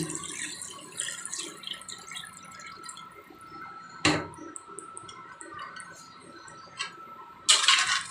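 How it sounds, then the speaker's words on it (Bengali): Water poured into a pan of cooking tengra fish, heard as a steady trickling wash with sharp splashing bursts near the middle and end. "এখন আমি দিয়ে দিচ্ছি পানি"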